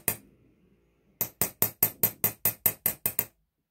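A hammer taps a steel chisel to chase a design into metal, about ten sharp, evenly spaced ringing strikes in a quick steady rhythm, close and loud, after a short quiet pause.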